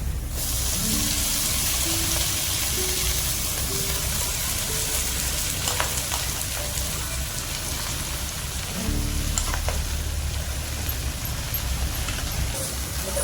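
Onions and drumstick leaves sauté in a pan, giving a steady, close sizzling hiss that runs unbroken throughout, with faint melodic tones underneath.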